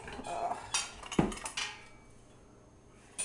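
Metal canning tools, a jar lifter and jar ladle, clatter and clink against a pot in a kitchen, several sharp scattered knocks over about two seconds, then quiet, with one last clink near the end.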